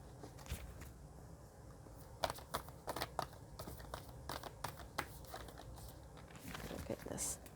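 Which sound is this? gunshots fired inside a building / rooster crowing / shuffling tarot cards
shuffling tarot cards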